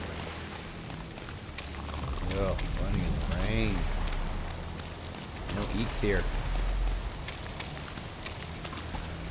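Steady rain pattering on surfaces in the video game Valheim, with footsteps splashing through wet ground as a character runs, and someone talking briefly over it.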